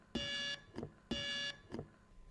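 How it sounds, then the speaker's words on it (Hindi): On a school quiz show, a buzzer gives two long, loud electronic blares about a second apart, each followed by a softer brief echo, with no talking. "सबसे पहले बजर दबाया था डीएवी पब्लिक स्कूल ओडिशा ने."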